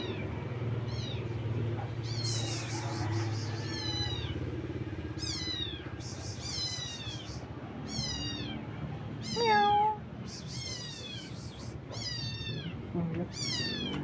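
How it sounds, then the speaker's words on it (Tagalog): A kitten in a neighbor's backyard meows and cries repeatedly in short, high, rising calls spread across the clip, loud and close over a steady low rumble of outdoor background noise. "Si Dola, iyak nang iyak."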